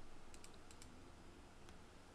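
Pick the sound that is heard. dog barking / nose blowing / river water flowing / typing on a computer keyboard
typing on a computer keyboard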